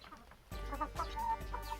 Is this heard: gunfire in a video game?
no